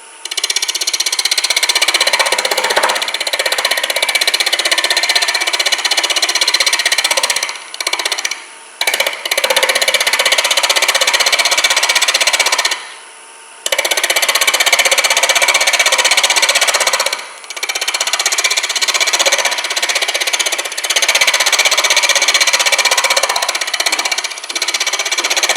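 Wood scraper cutting a spindle on a spinning wood lathe, a loud continuous rough chattering scrape that runs in long stretches, pausing briefly a few times as the tool lifts off the workpiece.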